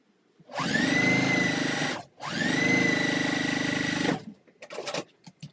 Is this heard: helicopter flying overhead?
no